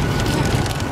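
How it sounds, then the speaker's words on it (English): Dense, steady rain roaring continuously, with a heavy rumbling wash like downpour or wind noise pressing on the mic. "And it's still raining like crazy."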